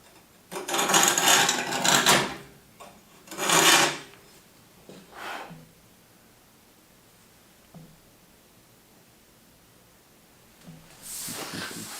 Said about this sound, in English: scribe real hard